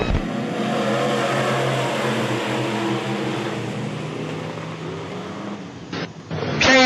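Midwest modified race cars roar off together at the green flag of a heat race, a loud sustained engine drone with rising revs from the pack, a brief dip near the end before another car blasts past close by.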